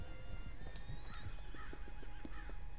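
Horse whinnies and hooves clip-clopping in the Red Dead Online video game, several short neighing calls over a steady bed of game ambience at moderate loudness, no talk.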